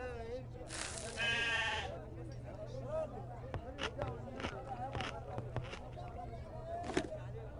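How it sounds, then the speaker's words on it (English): A goat bleats in a video game set aboard the Orient Express, a loud wavering cry near the start followed by scattered shorter noises over a steady low hum and background game sound. "What is that goat eating?"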